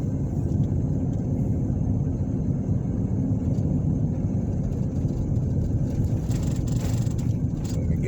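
Continuous low rumble of a car driving through town streets, engine and tyre noise steady and close with a faint hiss above.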